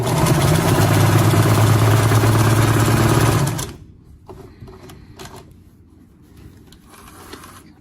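Sewing machine with a horizontal hook running a widest-setting zigzag stitch, a loud, steady, rapid mechanical clatter for about three and a half seconds that stops abruptly, leaving quiet room noise.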